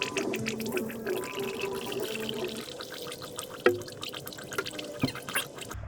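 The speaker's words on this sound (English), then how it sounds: "So we're gonna fill up the funnel." Coolant pours and trickles into a funnel while filling the cooling system of a 1990 Ford Mustang, a close, gurgling liquid flow with drips and a couple of light knocks.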